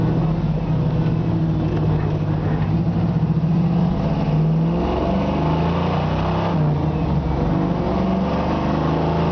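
A 1973 Camaro Z28 engine with an all-new exhaust system gives a steady, throaty drone from the car, rising and falling slightly in pitch with the throttle, continuous and fairly close throughout.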